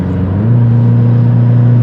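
A Subaru car with 150,000 miles and a rebuilt engine, its transmission worn, drives along: a steady, loud low engine drone with a slight pitch step early on, heard from inside the cabin with no talking.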